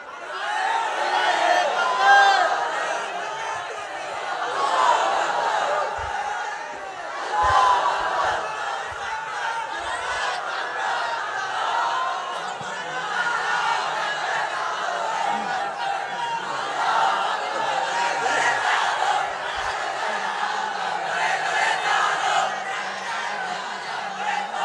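A large crowd at an Islamic religious sermon gathering raises chanted slogans, a dense, continuous wall of many voices carrying steadily through the whole stretch with loud surges, heard from within the audience.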